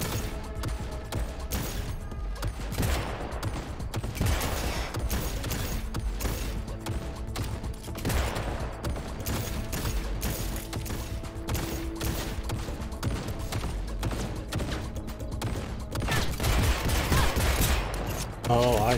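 An automated turret opens fire in the Cyberpunk 2077 video game, dense continuous gunfire with mechanical clatter that stays loud throughout, game sounds layered over it and no clear talk.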